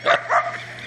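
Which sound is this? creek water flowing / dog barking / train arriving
dog barking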